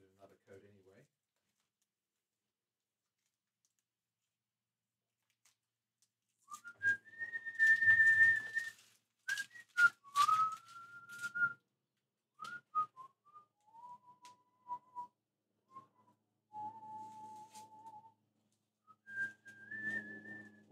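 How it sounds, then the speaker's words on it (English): A person whistles a made-up, wandering tune of sustained notes while sanding a custom guitar in a luthier's workshop, with faint scraping and bumps underneath and no talking. "What am I whistling? I don't even know what tune this is."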